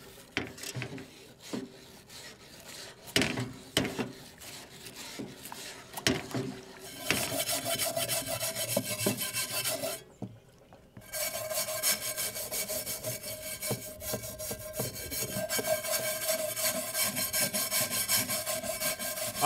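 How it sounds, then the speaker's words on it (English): Stiff wire brush scrubbing a rusty cast iron skillet in close repeated rasping strokes, first choppy and uneven, then settling into a steady continuous scour after a brief pause. "All right, so I'm through with that wire brush."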